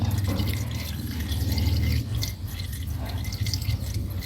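Coolant pours steadily into a car radiator during a top-up to clear air bubbles, a close, continuous liquid gurgle and splash with a low rumble under it.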